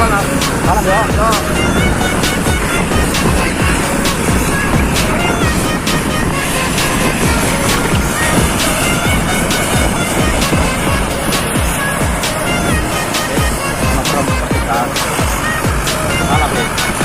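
Loud, raw motorcycle exhaust roars continuously through a street race, with engines revving hard up close and dense, unbroken engine noise throughout while voices call out over it.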